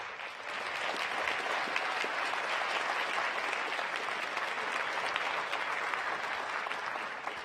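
A large audience at a mayor's State of the City event in San Jose claps steadily for honorees, a dense, even wash of applause lasting the whole stretch with no cheering or voices standing out.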